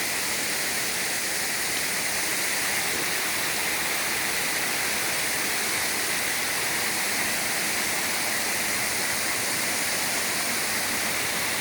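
Continuous broadband rush of flowing water, steady and loud like a nearby river swollen after rain, with no voices.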